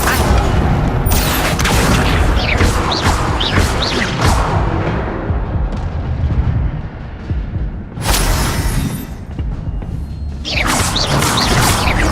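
Hogwarts Legacy spellcasting with the Incendio fire spell: loud roaring whooshes and booming bursts of flame over continuous combat noise, with a fresh blast surging in near the end.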